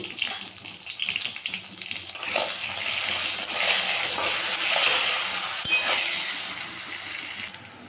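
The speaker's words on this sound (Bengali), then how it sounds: "বেগুনটা ভেজে নিলাম" Sliced eggplant frying in hot oil with kalonji seeds and turmeric: a steady, loud sizzle and hiss that swells partway through and continues unbroken, with no talking.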